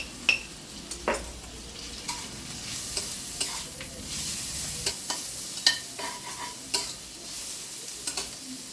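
Food sizzles steadily in a pan while a utensil scrapes and stirs, giving repeated sharp clinks and scraping strokes over the continuous frying hiss.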